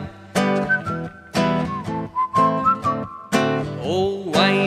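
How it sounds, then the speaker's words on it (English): A bright tuneful whistle follows the melody of a song over instrumental backing, in phrased bursts with short gaps and sliding notes. "Purse your lips and whistle, that's the thing."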